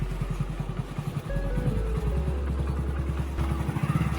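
A motorbike running along a village road putters close and steady, its engine thrumming in a rapid even pulse that rises briefly as it picks up speed, with no talk.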